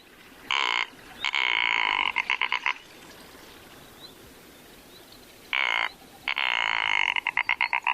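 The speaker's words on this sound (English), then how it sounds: "It's very croaky." Two bursts of loud, raspy frog croaking, each a harsh buzzing call ending in a quick series of rattling pulses, separated by a short quiet gap.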